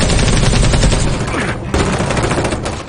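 Dense automatic gunfire from a film shootout with police, loud rapid bursts rattling continuously with one brief gap, close and harsh throughout.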